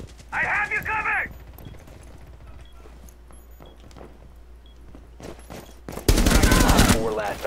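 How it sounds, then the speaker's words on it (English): Video game firefight with a thrown flashbang: a brief burst of harsh tonal chatter early on, scattered clicks and footsteps, then a sudden loud blast and sustained noisy roar of gunfire and blaring effects near the end. "Throwing a flashbang!"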